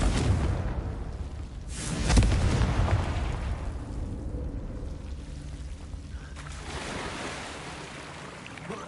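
A Confringo fire spell explodes in Hogwarts Legacy, a sharp blast near the two-second mark trailing into a rumbling, surf-like roar, with a second swell of burning rush late in the clip and no talk.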